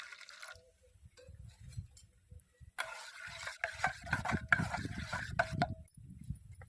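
Raw mango paste mixed with a little water in a bowl is stirred by hand, producing soft wet squelching and sloshing in uneven bursts, close and fairly quiet with brief pauses between strokes.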